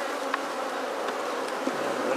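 Honey bees in an open hive buzz loudly and continuously, a dense, even drone with a few individual bees flicking close past.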